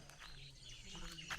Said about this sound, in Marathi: सगळे पक्ष्यांचे आवाज येत आहेत.